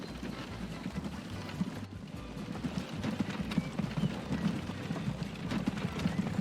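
Horse hooves clip-clop steadily along in Transport Fever 2, a repeated rhythmic patter over a muddy, bustling ambient background.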